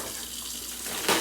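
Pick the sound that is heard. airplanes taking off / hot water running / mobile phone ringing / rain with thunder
hot water running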